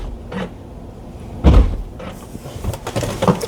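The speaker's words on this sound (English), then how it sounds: "I don't know if you guys can hear the doors opening," Tesla Model 3/Y doors unlatching and popping open, heard as a few scattered thuds and clicks with one heavier knock, close by in a quiet car.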